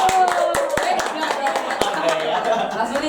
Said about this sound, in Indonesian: Tepuk tangan dong buat aku